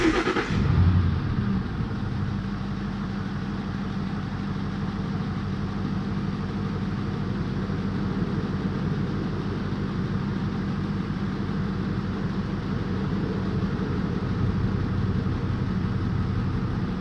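A Ford F150 pickup with a bad ignition coil idles in a steady, low, rumbling drone that runs unbroken from a quick start to the end, with no voices.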